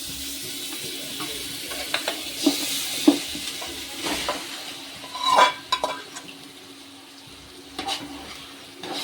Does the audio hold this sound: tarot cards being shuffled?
no